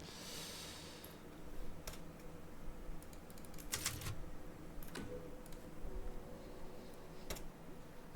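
Quiet typing on a computer keyboard during a Resident Evil Village gaming session, with irregular soft key clicks and a few sharper taps over low room hiss.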